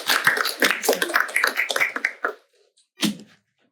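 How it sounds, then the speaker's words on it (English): Audience at a UNESCO comparative education lecture claps in a dense burst of applause, close and lively, fading out after about two seconds before a brief final clap. "So please give her a big round of applause"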